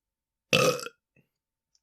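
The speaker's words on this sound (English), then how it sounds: "God, I got a burp." A single loud burp from a person, about half a second long, close to the mic, followed by near silence and a faint click at the end.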